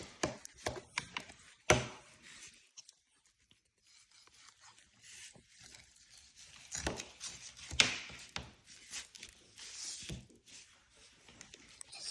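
Knife slicing through seasoned party ribs on a board, with irregular rasping cuts and a couple of sharp knocks, close and moderately quiet, broken by a near-silent pause.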